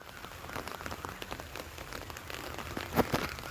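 Heavy rain pours down on a farm where coconut and chilli are grown, a steady dense hiss of drops drumming on surfaces, with a couple of louder splatters near the end and no voices.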